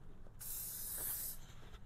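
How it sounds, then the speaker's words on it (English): Cleaner is sprayed onto a printer's clear belt in one continuous hiss of about a second, close and fairly loud against a quiet room, with no talking. "So I'm going to spray."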